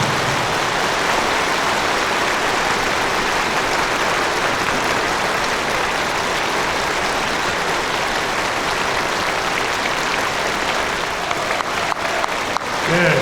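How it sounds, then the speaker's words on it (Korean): A congregation applauds in celebration during a church installation thanksgiving service, a dense and sustained roar of clapping that stays loud and even for over ten seconds before tapering slightly at the end. "박수로 축하합니다."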